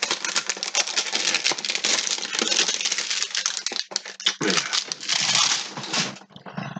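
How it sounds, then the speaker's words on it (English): Crinkling and crackling plastic wrapper of a trading card pack, opened by hand with dense rustling bursts and short pauses, loud and close. "the melodious sounds of plastic crinkling"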